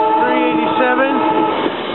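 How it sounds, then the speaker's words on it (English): An R5 commuter rail car train rumbles close by at North Wales station, Pennsylvania, with a loud, sustained horn-like tone held steadily throughout, the sound filling the whole two seconds. "I see another Sutter train going south, coming into North Wales."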